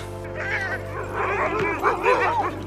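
Sled dogs on an Arctic sea-ice patrol bark and yip excitedly in a close, continuous burst of whimpering yelps, with a person speaking over them.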